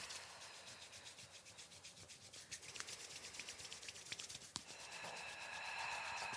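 A brush scrubs across the skin of a forearm toward the elbow in steady, rubbing strokes, soft and close, with a few sharper bristle scrapes and no talking.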